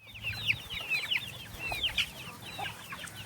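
Several backyard hens cluck and chatter in quick, overlapping bursts, fairly close, with soft rustling underneath and no people talking.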